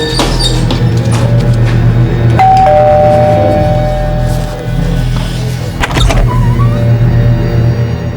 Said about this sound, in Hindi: चलो इसी बहाने कम से कम प्रीति जी का घंटी बजाने के लिए मिलेगा।